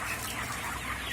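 Around six hundred 28-day-old broiler chickens in a farm shed in Thrissur make a dense, continuous wash of clucking and murmuring that fills the space for a brief moment.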